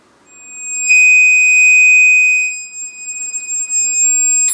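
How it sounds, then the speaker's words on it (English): A piercing, high, steady 2500 Hz test tone from a repaired dynamic tweeter sounds alone for about two seconds, then cuts off, leaving faint noise before another brief tone rises. "2500 hertz."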